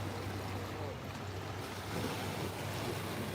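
Waves roll in and crash on the shore at Boulder Beach, a steady, dense wash of surf mixed with wind rumble on the microphone, loud and continuous with no clear talking.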